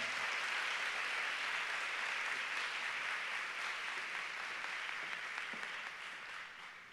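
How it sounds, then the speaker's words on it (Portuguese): A women's church congress audience gives a strong round of applause, a thick, even rush of many hands clapping together that holds steady and then gradually fades toward the end. "Você pode dar um forte aplauso ao Senhor?"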